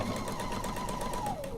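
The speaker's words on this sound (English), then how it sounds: "Sewing up to my pin, everything's nice and straight, nice and flat." A sewing machine runs steadily, stitching quilt fabric up to a pin, a close, even motor whir with rapid needle rhythm that dips slightly in pitch at the end.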